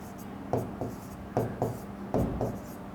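Marker or chalk writing on a board during a Hindi-language lesson on the skeletal system, with repeated short scratchy strokes in quick bursts, close and clear against a steady room background.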